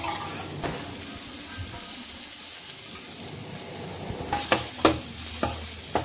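Egg is stirred into a frying tomato masala in a pan for chapati stuffing. A soft sizzle runs under sharper scraping and clacking stirring strokes, which come faster toward the end. No one speaks.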